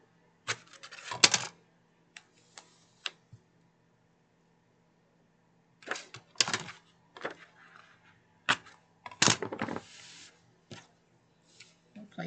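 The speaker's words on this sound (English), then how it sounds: "So I'm going to take some tape. We're going to place our tape here on the inside." Adhesive tape is pulled and torn in short bursts while being stuck to Dollar Tree decor, with crackly ripping sounds and small taps separated by quiet pauses.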